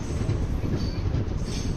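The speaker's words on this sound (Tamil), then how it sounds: "ட்ரெயின் கிளம்பிருச்சு" A passenger express train pulls out of Katpadi station, heard from inside the carriage as a steady loud rumble with rhythmic clickety-clack of wheels over rail joints.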